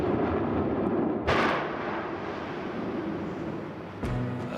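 A volcanic eruption rumbles in a dense, continuous roar, broken by two sharp explosive bursts, one early and one near the end, loud and boomy with no speech.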